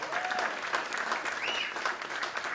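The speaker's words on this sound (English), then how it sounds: "Round of applause for them." Steady crowd applause for district leaders at a community meeting, moderately loud and even for the whole stretch, with faint whistles and voices in the mix.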